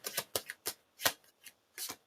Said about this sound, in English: Let's just shuffle a little bit.